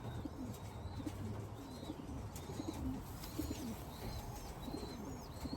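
A racing pigeon, an RFFL Blue Bar, cooing in a loft: soft, repeated low coos at a steady rhythm over a background murmur, joined by a few faint higher chirps.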